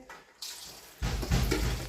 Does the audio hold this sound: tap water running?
yes